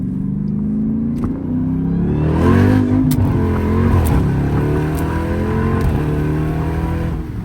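A Jeep Trackhawk launches hard, its engine roaring loud and close as the revs climb, dip at a shift and climb again in a continuous, full-throated pull, with no talking.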